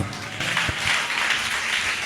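An audience at a church gathering claps together in a short burst of steady, moderately loud applause that fills the space without any talk.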